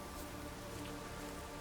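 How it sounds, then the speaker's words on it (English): Steady, dense rain falls in The Witcher 3, a continuous even hiss of drops on surfaces with no breaks, fairly close and uniform throughout, with no speech. "Looks like rain."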